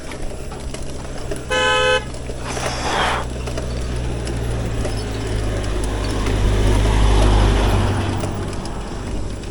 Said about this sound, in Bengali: ইনকামিং পুলিশের গাড়ি